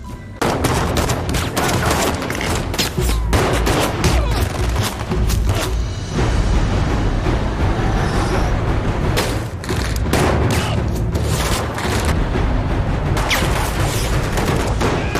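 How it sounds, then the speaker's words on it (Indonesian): Sustained heavy gunfire from an action scene in the film Olympus Has Fallen, with dense bursts of automatic weapons and booming impacts running continuously and loudly throughout, layered over a constant low rumble. "Aksi tembak-tembakan pun terjadi kembali."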